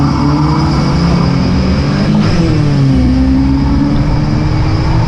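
Race cars pull away at a green-flag restart, loud engines climbing in pitch as they accelerate, one note sweeping through mid-clip, no talking.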